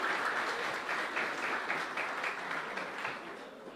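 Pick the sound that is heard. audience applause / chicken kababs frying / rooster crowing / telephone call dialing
audience applause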